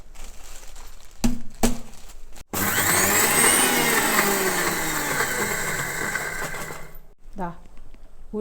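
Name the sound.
grinder grinding roasted asafoetida, fenugreek and dried chillies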